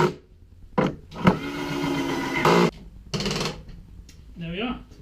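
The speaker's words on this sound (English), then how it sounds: "get some screws, these are 30mm, and drive them in." A power drill drives 30mm screws into a table saw cabinet in several bursts of whirring, each a second or two long and close by, with short pauses and a light clatter between them.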